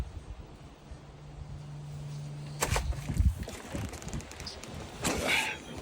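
Water pours steadily into a newly set up Aquaterra Montecito spa hot tub, a continuous rushing hiss with a few louder splashes and knocks partway through.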